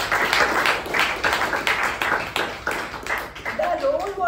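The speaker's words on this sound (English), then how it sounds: "let's give a big round of applause for the master of the ceremony, Toastmaster Pavani." Audience clapping for a master of ceremonies at a Toastmasters meeting, a steady round of many hands over the whole stretch with voices mixed in and a faint tone near the end.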